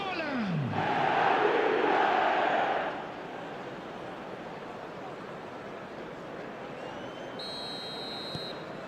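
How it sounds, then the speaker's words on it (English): Stadium crowd in the eFootball video game, a loud swelling roar of cheering that peaks early and then eases into a steady, distant murmur, with a brief whistle-like tone near the end. "the crowd are reacting to that now"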